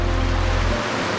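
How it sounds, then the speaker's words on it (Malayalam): Water pouring down from just above Meenuliyan Para rock in Kerala, a steady broadband rush of falling water heard up close, continuous and loud. "ഒരു രക്ഷയില്ലാത്ത മീനുരുളിയം പാറയുടെ തൊട്ട് മുകളിൽ നിന്ന് വരുന്ന വെള്ളമാണ് ഇത് കണ്ടോ"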